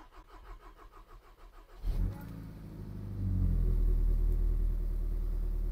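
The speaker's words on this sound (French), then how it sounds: "Donc maintenant, je vais essayer de le démarrer." A 2-litre TSI car engine, just fitted with new ethanol fuel pumps, cranks over rapidly, catches after a brief struggle and settles into a loud, steady, close idle.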